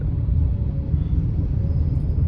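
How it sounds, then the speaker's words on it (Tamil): Low, continuous rumble of road traffic in Tiruvannamalai, a steady engine drone heard close up with no voices. "இங்க டிராஃபிக், திருவண்ணாமலை டிராஃபிக்கா இருக்கு"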